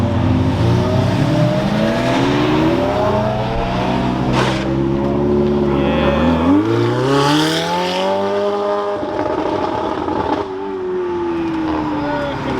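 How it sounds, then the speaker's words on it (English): A Ferrari 488 race car revs and accelerates away, pitch climbing through gear changes, loud and close then receding, with a sharper roar passing near the end. "they'll drive the freaking 488 race car"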